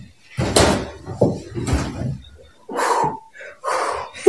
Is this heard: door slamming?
yes